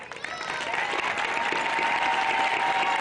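Audience applause at a 2023 high school graduation ceremony, steady dense clapping from a large crowd that holds at an even level throughout, with scattered cheers mixed in.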